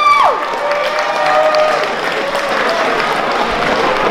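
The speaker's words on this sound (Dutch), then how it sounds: "Even een applaus voor Gijs-Jan alsjeblieft." Applause and crowd noise fill a carnival proclamation hall as people clap for Gijs-Jan, a steady mid-loud wash of clapping with a bright whistle-like tone sweeping down at the start and a held tone partway through.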